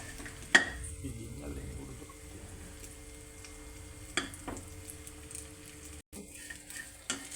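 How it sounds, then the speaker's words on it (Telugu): Dates frying softly over low heat in a pan for dry fruit laddu, with faint sizzling and occasional stirring clicks and scrapes against the pan; quiet and close, no talk. "ఇవి సాఫ్ట్గా అయ్యే వరకు వేయించుకోవాలి, సిమ్లో పెట్టి వేయించుకోవాలండి"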